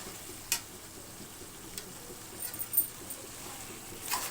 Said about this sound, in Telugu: కారం వేసుకొని ఇట్లా కలుపుకోవాలి.